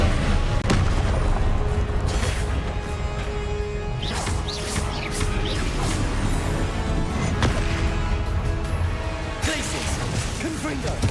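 Confringo spell explosions and combat in Hogwarts Legacy, heavy booming blasts and sharp impacts repeating over a dense, loud game soundscape with faint voices mixed in.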